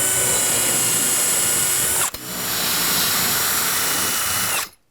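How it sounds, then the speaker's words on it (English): A power drill whines steadily at close range, drilling into a wall to mount a TV bracket, briefly pausing midway before spinning up again and then stopping abruptly. "So I'll drill these."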